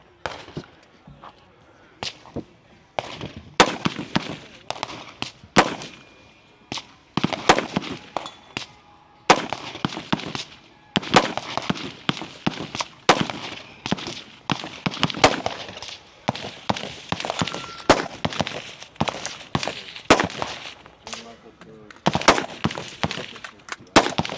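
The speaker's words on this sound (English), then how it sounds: "he will have 12 shots with his rifle, standing freestyle, and then 10 shots with his pistol" Rifle and pistol shots fired standing freestyle on a shooting range firing line at an elite men's nationals event, sharp cracks ringing out irregularly and often in quick clusters throughout, loud and close with a faint ambient background.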